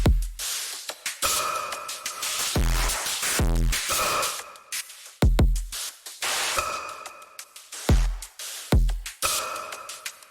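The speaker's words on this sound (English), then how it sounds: "I think this is just like a rectifier, like a rectification distortion." Rectifier-style clip distortion from an audio plugin crunches through a chopped, gated pattern of loud buzzy bursts separated by abrupt silences, harsh and alone without talk.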